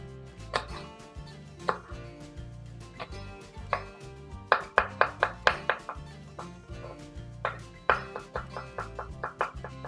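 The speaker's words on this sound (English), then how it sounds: "And we're just going to chop it up nice and fine." A knife chopping garlic cloves on a cutting board, a quick uneven run of sharp close taps that speeds into rapid bursts, with no talking.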